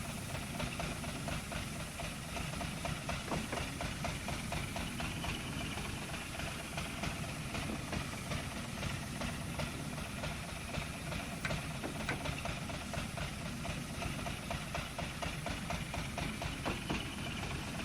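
The Wickham's trolley engine idles in Train Simulator Classic on the Mid Suffolk Light Railway, a steady, dense, rapidly pulsing chug with a hissy edge that runs on unbroken at an even, fairly loud level.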